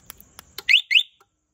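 Yamaha Sight motorcycle alarm giving two loud, close electronic chirps in quick succession on unlock, preceded by a few faint clicks.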